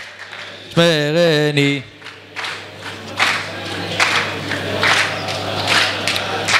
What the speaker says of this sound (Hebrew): מגיע להם מחיאות כפיים לצדיקים פה